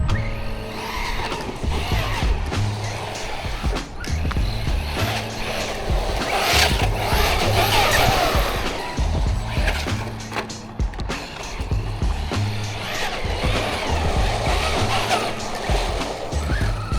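An Arrma Granite V4 223S BLX monster truck races over rough ground with its tires ballooning, the brushless motor whining steadily while the wheels churn and scrabble continuously and loudly throughout.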